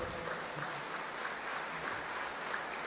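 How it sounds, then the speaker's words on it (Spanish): A church congregation claps steadily throughout, a dense, even patter of applause with no one speaking over it. "Dele un aplauso al Señor."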